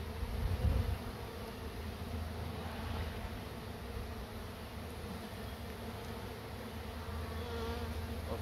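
Honey bees buzz in a dense, steady drone while a beehive is moved out of a tree and the comb is cut into frames. The swarm hums close and continuous throughout.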